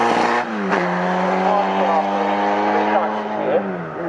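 MG race cars from the Midget, Sprite, BCV8 and MGA classes blast down the Snetterton straight, loud droning engines rising and falling in pitch as they pass close by, with a commentator's voice running over the noise.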